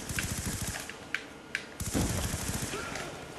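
Call of Duty Black Ops 2 gunfire rattles in rapid automatic bursts with a few sharper single shots, loud and close and tightly rhythmic, in a busy multiplayer match.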